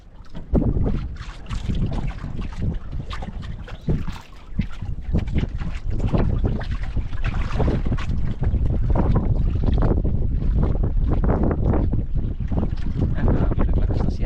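Strong wind gusts batter a small boat out at sea during a fishing trip, making heavy, roaring microphone buffeting with splashing water that stays loud and unbroken from start to end.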